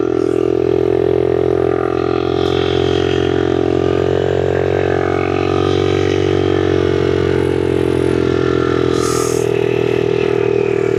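A Honda XL75 70cc motorcycle engine idles steadily and loudly close by, a constant buzzing putter with no revving, running alone for the whole stretch.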